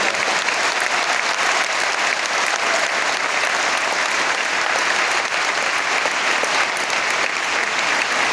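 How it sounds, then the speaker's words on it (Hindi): A large audience claps loudly and continuously in a dense, steady wave of applause welcoming Home Minister Amit Shah, with no voices rising above it. "एक बार घनघोर ताली बजाओ और आपका स्वागत करो"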